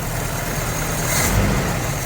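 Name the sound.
1984 Toyota pickup truck engine idling after first start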